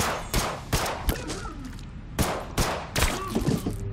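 Rapid gunfire bursts in the zombie strategy game They Are Billions, a dozen or so sharp close shots in uneven clusters over a dense battle din, with no voices.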